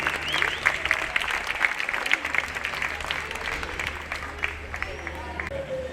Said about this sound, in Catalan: Moltíssim aplaudiment